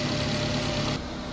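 Perodua Alza car engine idling after being started, a steady loud rumble with even vibration and no voices.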